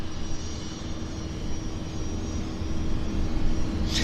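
Air India jet airliner taxiing at Vancouver airport, a continuous steady engine whine and rumble with a faint tonal hum, heard at moderate distance, alone and slowly swelling slightly louder.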